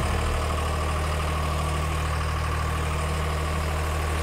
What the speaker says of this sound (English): Bandit 2800 SP. Awesome machine.